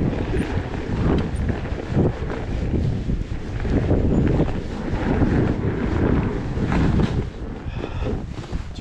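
Strong wind roars steadily across the microphone during a fat bike ride on a Surly Ice Cream Truck through deep, drifting snow, a loud continuous rushing with gusty swells and no talk.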